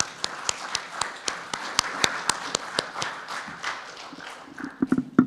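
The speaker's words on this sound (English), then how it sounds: "Let's give her a clap." A small group claps, sharp separate hand claps in a loose irregular rhythm, thinning out and then picking back up briefly at the end.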